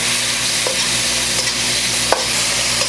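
Pork in black bean sauce stir-frying in a pan, a loud steady sizzle with occasional scrapes and clicks of a utensil stirring, close and continuous with no talking.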